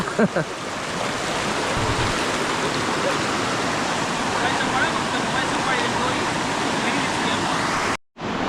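River water in Ratnagiri rushes and splashes nearby in a constant loud wash, with a brief voice or knock at the start.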